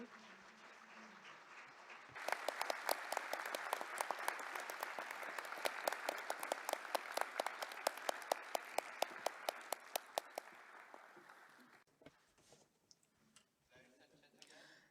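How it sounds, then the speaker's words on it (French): An award ceremony audience breaks into applause that begins abruptly and holds strong for several seconds, with sharp individual claps standing out, before fading into quieter room sound. "veuillez applaudir à nouveau la nouvelle championne"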